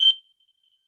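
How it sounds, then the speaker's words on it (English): A single short, loud smoke alarm chirp goes off unexpectedly indoors at home, a brief high-pitched beep lasting a fraction of a second before fading into near silence. "I don't know why the alarm went off."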